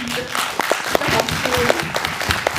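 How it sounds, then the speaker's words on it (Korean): Audience applause after a stop-motion animated film screening at a Q&A session, dense broadband clapping from a crowd with some voices mixed in, steady for a couple of seconds. "박수."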